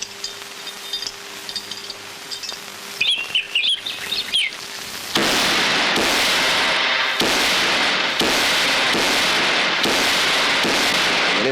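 Firecrackers burst at a temple festival, a dense, continuous crackling barrage of sharp pops arriving loud and close after a few seconds of quieter chirping and scattered clicks.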